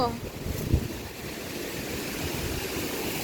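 Strong cyclone wind gusting around a house, a loud continuous roaring rush that swells and buffets close to the microphone, with a voice briefly heard at the start.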